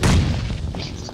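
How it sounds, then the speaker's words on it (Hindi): A vehicle blowing up in BGMI: one loud booming blast at the start that quickly decays into a fading rumble, with a few faint clicks trailing after. "गाड़ी वाला फोड़ा"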